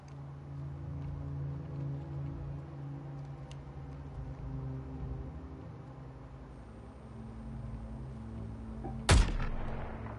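A single sharp, loud gunshot rings out near the end of a stretch of low, steady rumbling ambience in the video game Suicide Squad: Kill the Justice League, with no talk.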